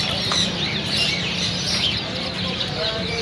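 Birds calling and cooing at an old bird market in Saddar, Karachi, where parrots, cats and dogs are also kept; chirps and coos mix with steady crowd murmur and voices throughout.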